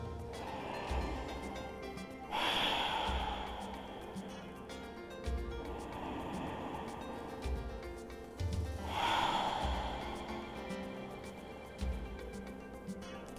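Slow, audible breaths drawn in and out during a strap-assisted thigh stretch on the floor, with a few longer inhalations standing out against a quiet room.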